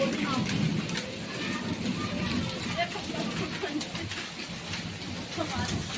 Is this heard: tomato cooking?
no